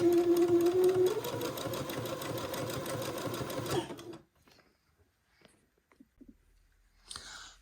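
Sewing machine stitching entre-deux lace to fabric, a close, rapid mechanical whir that runs for about four seconds and then stops, followed by faint handling clicks and rustles.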